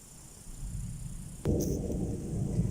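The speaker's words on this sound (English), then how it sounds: "You can hear the thunder." A low, distant rumble of thunder rolls in faintly over quiet outdoor background noise at an abandoned house in an abandoned village, swelling halfway through and lingering.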